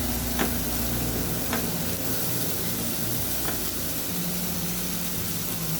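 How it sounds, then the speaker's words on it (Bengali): Spice paste with turmeric powder being sautéed in a pan for shorshe ilish, a loud, continuous sizzle and fry with a few sharp utensil scrapes, close up and without talk. "তো 1 মিনিট ধরে ভালোভাবে মশলাটা আমি কষিয়ে নিব"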